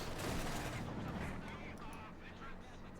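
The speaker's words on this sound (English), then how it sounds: "Using the mortar to secure the point" Mortar and artillery fire in the WWII strategy game Company of Heroes 2, a dense barrage of booming shots and blasts under a sustained battlefield roar, with commentary voices talking over it.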